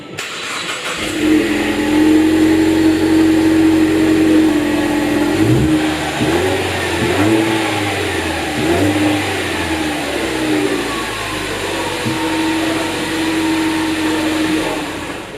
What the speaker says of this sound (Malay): Okay, saya bagi bunyi exhaust.